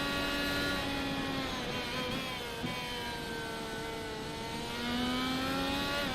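A simulated race car engine in an iRacing Formula Indy-style race at Interlagos holds a steady high-pitched whine throughout, rising and falling slightly as it accelerates, loud and continuous with no talking.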